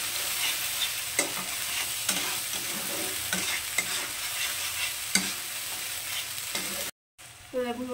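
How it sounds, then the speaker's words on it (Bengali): Ground spice paste sizzles and fries steadily in hot oil while being stirred, with scraping strokes of a spoon against the pan recurring every second or so, close and continuous, before a brief silence and a louder bubbling burst at the end. "এবার মশলাটাকে আমি একটু খুব ভালো করে কষিয়ে নেব।"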